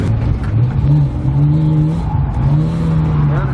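A drift car at a Halloween drift night revs hard on and off the throttle, its engine rising and falling in repeated loud surges close by.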